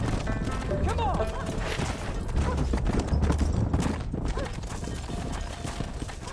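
Horse hooves clip-clopping in the Red Dead Redemption video game, a busy run of hoof clops mixed with game noise, with talking heard over it.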